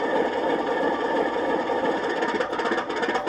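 An LGB 2055 White Pass narrow gauge model locomotive with an ESU sound decoder produces a steady, rough diesel idle drone, continuous and close, with no voices.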